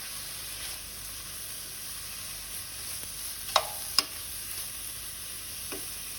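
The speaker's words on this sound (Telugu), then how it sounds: "ఇలా వేగుతుంది" Urad dal and turmeric frying in a pan, a faint, steady sizzle broken by a few sharp clinks of stirring near the middle.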